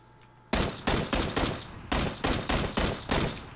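Burst after burst of gunfire in the battle-royale game PUBG: about eight sharp, loud shots in an uneven rhythm after a quiet start, fairly close and with no talk over them.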